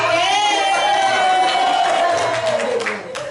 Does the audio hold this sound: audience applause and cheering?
yes